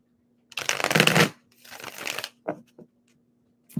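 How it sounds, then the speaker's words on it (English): Tarot cards are shuffled twice in quick riffling bursts, close and crisp, followed by a couple of light taps as the deck is squared up. "one more shuffle for Aries"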